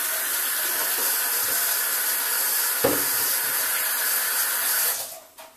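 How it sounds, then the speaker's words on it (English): Hands being washed under a running kitchen tap while making homemade biscuits, a steady close hiss of flowing water with a brief splash near the middle before the flow cuts off at the end. "I'm going to wash my hands real quick"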